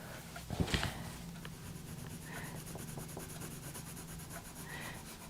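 A lemon yellow coloured pencil rubs steadily over paper, adding colour in a soft, continuous scratchy scrape with a few brief louder strokes, close and quiet, with no talking.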